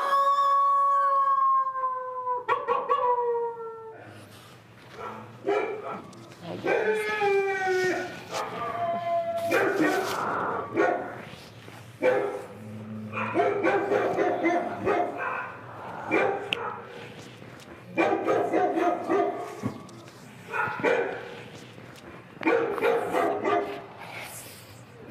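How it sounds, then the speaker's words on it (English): A dog barking and howling in a house's backyard setting, long rising howls at first, then repeated loud barks and yelps in uneven bursts, close and continuous over steady background hum. "the dog's barking."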